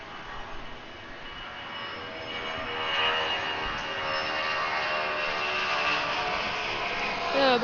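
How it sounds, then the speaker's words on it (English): A Boeing 757 jet roars past at Atlanta airport, a loud sustained engine rumble and whine that builds and holds steadily throughout, with a sharp rising tone near the end. "There goes the 757."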